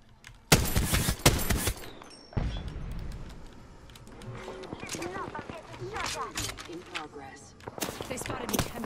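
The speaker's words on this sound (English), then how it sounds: "They're shooting at me." Gunfire aimed at the player in a shooter video game, with sharp bursts of shots mixed under ongoing game sounds and someone talking over the action.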